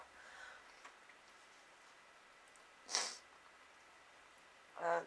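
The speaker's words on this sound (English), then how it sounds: "Keep sneezing and keep being allergic to myself." Two sharp sneezes from a person with a cold, one near the middle and a louder one at the end, each a short burst with quiet room tone between them.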